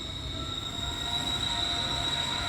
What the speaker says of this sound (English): Yeah, that's the train.